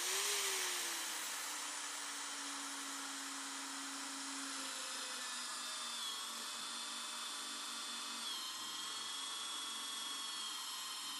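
An electric drill runs steadily in a homemade drill stand, giving a continuous high whine that holds level after a brief pitch drop near the start, with no talking.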